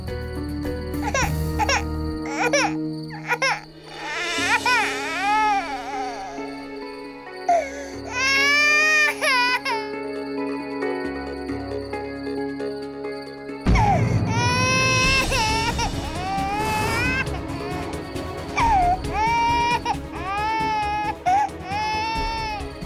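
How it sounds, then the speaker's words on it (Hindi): A baby cries loudly and close in a TV drama scene, long wailing sobs broken by short gasping pauses, growing more intense and frantic in the second half. "बच्चे की रोने की आवाज, इतनी आ कहां से रही है?"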